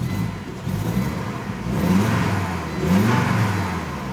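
A Volvo 850 GLT engine with starting and running issues revs up as the throttle is punched, climbing in two or three rising surges, close and moderately loud with no talking.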